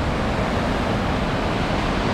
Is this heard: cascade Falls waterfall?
yes